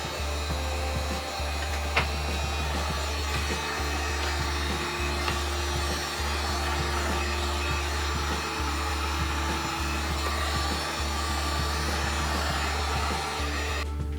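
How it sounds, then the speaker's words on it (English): A heat gun blows a constant loud whooshing roar up close while warming Kydex sheet for a SIG P365 holster, with faint periodic flutters under the steady airflow. "what I like to do is just use a heat gun and just heat this up while"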